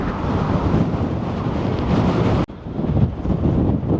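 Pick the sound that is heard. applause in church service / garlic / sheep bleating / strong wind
strong wind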